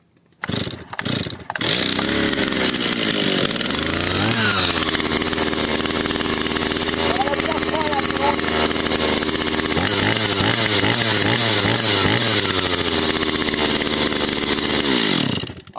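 A Stihl 024 chainsaw with a ported, modified exhaust starts and runs loud and close, its high-pitched engine whine steady with a few revs.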